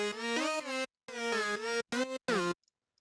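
Several Serum synth sounds stacked together with all effects off, playing a short dry melodic phrase of sliding notes in a few bursts separated by abrupt silences, loud and close with no voices.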